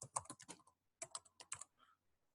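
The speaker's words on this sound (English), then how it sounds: "I'm going to type in a username of somebody that" Quick close keystrokes on a computer keyboard while a username is typed, two short bursts of rapid clicking split by a brief pause, with no voices.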